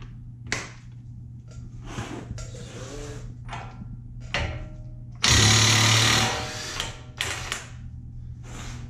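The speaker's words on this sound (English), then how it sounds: "the other option you have is just to use an impact gun and zap it off" An impact gun works on the front axle nut of a Toyota FJ Cruiser, sending out short rattling bursts and one longer loud hammering run over a steady low hum.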